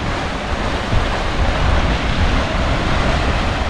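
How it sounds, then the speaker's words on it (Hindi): Large, strong sea waves break on Barceloneta beach in Barcelona, a steady loud roar of surf with wind noise over the microphone, continuous throughout without voices. "यहाँ पे जो पानी की लहरें हैं वो भी काफ़ी बड़ी बड़ी और तेज़ हैं।"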